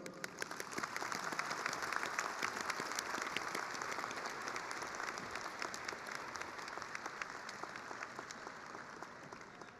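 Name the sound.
applause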